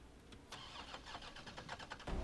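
A car engine cranks and turns over in Resident Evil 3 Remake, a sharp click followed by a rattling series of starter pulses, ending in a sudden louder low burst as the motor catches.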